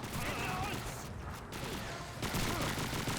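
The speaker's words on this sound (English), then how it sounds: "So you're seeing the PPSH-41 firing" A PPSH-41 submachine gun fires bursts in Call of Duty 2, up close and loud, with a dense rattle in the first half that gives way to a brief lull and then more gunfire.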